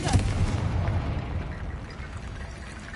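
A Confringo spell blast in Hogwarts Legacy lands as a loud, close, low booming explosion that rumbles and slowly fades over a few seconds.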